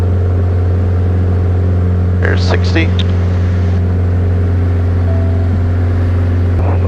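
A Piper Arrow's piston engine runs at max power on the takeoff roll, heard as a loud, steady, droning hum inside the cockpit, with a pilot briefly speaking over it.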